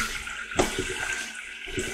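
Tap water runs into a pot being filled for canning sweet potatoes in a home kitchen, a continuous moderate splashing rush with a few small clunks of the pot.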